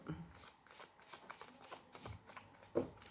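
Tarot de Marseille cards being shuffled by hand, a close, quiet run of soft riffling flutters and light slaps with one firmer tap near the end, no speech.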